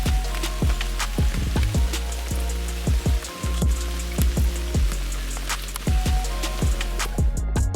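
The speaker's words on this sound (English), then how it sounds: "it's now been raining relentlessly for 24 hours, and everything is soaked." Heavy, relentless rain at a carp fishing lake in British summer, a dense steady patter close by with repeated sharp drips or drops striking a hard surface.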